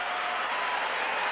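A college baseball crowd at the 1977 College World Series, South Carolina against Arizona State, greets a home run with sustained applause and cheering, a dense even wash of clapping heard from a distance.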